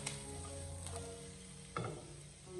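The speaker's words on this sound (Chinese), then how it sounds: "我们开中大火，将南瓜给它持续的多翻炒一小会，将南瓜给它翻炒至有一点微微的焦香。" Pumpkin stir-fried in a wok over medium-high heat, a steady low sizzle with a sharp scrape of the spatula near the end and no voices.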